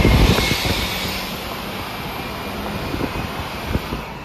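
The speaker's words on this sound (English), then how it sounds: "We don't have all this exhaust, so you're just hearing the engine." Pickup truck engine under hard acceleration while hauling an F350, a steady droning roar with wind noise over the microphone, continuous and fairly loud with no speech.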